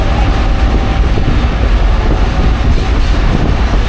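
Century-old 1923 passenger coaches roll along the Black River & Western Railroad with a loud, continuous rumbling roar and faint clickety-clack, heard from inside the moving train without talk.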